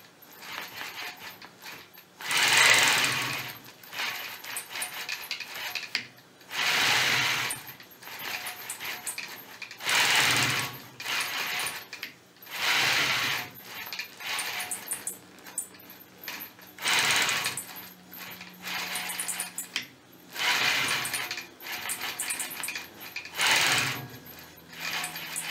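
Sewing machine quilting a scalloped border with a quilting ruler, running in short mechanical bursts of rapid stitching separated by brief pauses, close and clear with no speech.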